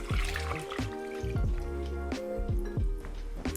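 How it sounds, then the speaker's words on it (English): Chicken inasal marinade is poured over chicken pieces in a bowl, producing close, wet glugging and dripping with bubbly splashes in an uneven rhythm and no voices. "we're just gonna pour that marinade over the top of the chicken"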